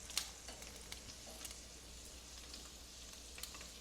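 Bacon frying in a pan, a faint steady sizzle with occasional small pops and crackles throughout, no voices.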